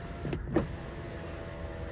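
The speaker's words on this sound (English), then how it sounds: "You can see I actually used the sunroof because I trust it enough." Electric motor of a car's sunroof running briefly in the interior, a short whirring burst near the start over steady low cabin hum.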